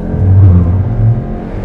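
A 2021 Cupra Formentor's engine revs hard and low during a launch-control start, a deep rumbling surge of acceleration, close and loud.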